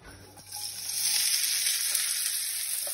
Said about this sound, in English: I love the smell of peppers and onions and garlic cooking.